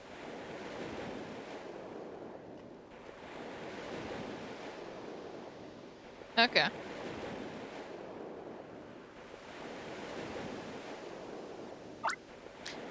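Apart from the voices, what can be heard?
ocean waves in a video game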